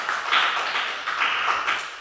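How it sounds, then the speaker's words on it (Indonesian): A classroom of students claps together for a classmate, a dense burst of applause that swells and briefly dips before continuing, fairly close and steady with no talking over it. "Tepuk tangan buat teman kita"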